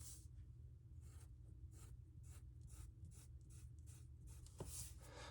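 A pen draws on paper, sketching a cartoon figure: soft, repeated scratchy strokes in short bursts, close and quiet, with no talking.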